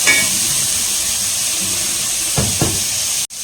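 Onions sauté in a pan, giving a steady, even hiss of frying with a couple of soft knocks from stirring near the end before it cuts out.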